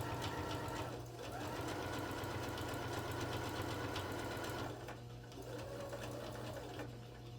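A sewing machine runs at steady speed while stitching a fabric bin. It makes a close, even mechanical whir with a short pause partway through before it resumes, and no one speaks.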